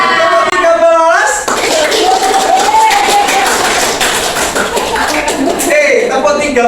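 Students in an Indonesian classroom clap hands in a counting clap game, a burst of rapid group claps filling most of the stretch between a teacher's spoken count, with voices at the start and end.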